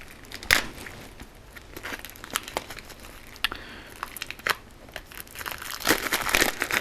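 Plastic wrapping on board game cards crinkles and crackles as it is handled, with irregular sharp bursts of rustling, close and fairly loud, with no talking.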